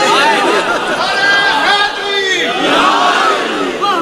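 Crowd at a Shia religious majlis gathering raising loud chanted slogans, many voices shouting together in sustained, rising and falling waves that fill the whole stretch.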